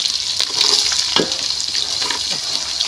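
Garlic frying in hot oil in a pan for papaya pickle gives a close, steady, crackling sizzle for the whole stretch, with faint stirring scrapes and no talking.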